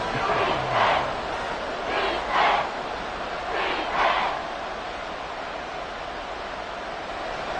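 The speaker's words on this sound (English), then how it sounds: "The Arrowhead crowd in full roar." Crowd at Arrowhead Stadium roaring during an NFL game against the Dolphins, a broad wash of distant noise that swells in a few surges and then settles into a steady rumble.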